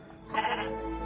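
A goat gives a single short bleat, fairly faint and close by, with quiet background around it.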